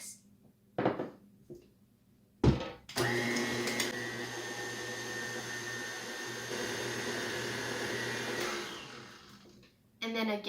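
Electric mixer beats cake pop batter with milk in a sustained whirring run of about seven seconds, following a few clunks and knocks of ingredients being added.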